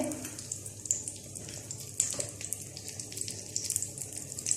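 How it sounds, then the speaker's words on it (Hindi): Pizza bombs frying in hot oil over medium heat, a steady close crackling hiss with fine popping and a couple of louder spatters, no voices. "अब हम दूसरी साइड को भी ऐसे ही फ्राई करेंगे।"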